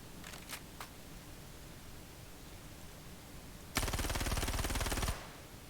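P4 gun fire in Star Citizen, first-person shooter combat: a rapid automatic burst lasting over a second with evenly spaced sharp reports, close and loud, after a couple of faint isolated shots early on.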